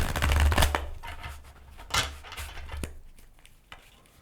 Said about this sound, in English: let's do a couple shuffles